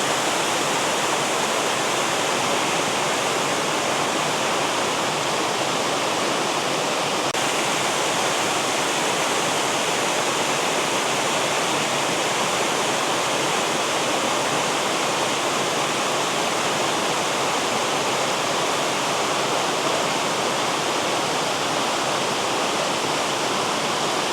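Benton Falls roars in a loud, constant rush of falling water that continues unbroken and steady from start to finish.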